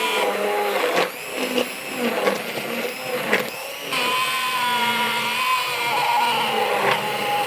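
A blender grinds pressure-cooked ginseng softened in a pressure cooker with malt syrup, a loud continuous whirring motor with shifting pitch and brief dips as the blades churn through the mixture.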